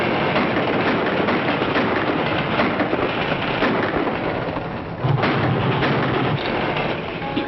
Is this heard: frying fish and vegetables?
no